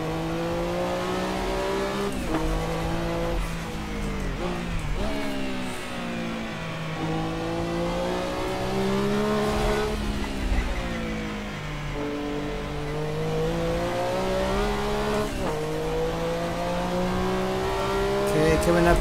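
A Porsche 962C race car in Assetto Corsa on the Nordschleife roars loudly, its engine pitch climbing through repeated revving runs broken by sharp gear shifts and turbo lag, with a voice speaking over it at times.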